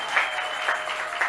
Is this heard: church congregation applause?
yes